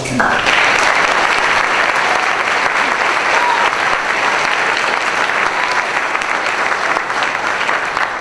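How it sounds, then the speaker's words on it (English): An audience at the 2015 Golden Spartan Awards ceremony bursts into sustained applause, dense clapping that starts abruptly and holds steady and loud for about eight seconds with no voices over it. "I hope that you will join me in a round of applause."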